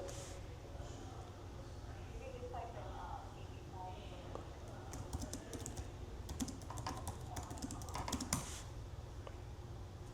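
Computer keyboard typing during a live group coaching call, with a scattered burst of key clicks under a steady low background hum and faint speech.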